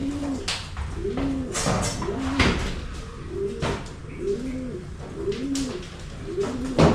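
Several pigeons coo in a rooftop loft in the morning, their soft, rounded calls repeating in overlapping rhythmic bursts over a steady background, with occasional knocks and rustles nearby.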